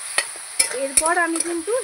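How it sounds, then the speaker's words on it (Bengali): Spices and chili powder fry in oil in a pan while being stirred, with a few sharp spoon taps and light scraping under a voice that keeps talking throughout. "এবার ভালো করে নাড়াচাড়া করব।"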